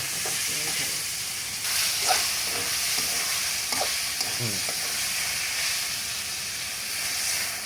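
Meat cooking in a pot being stirred, a constant loud sizzle and steamy hiss with repeated scraping and clanking from the stirring utensil.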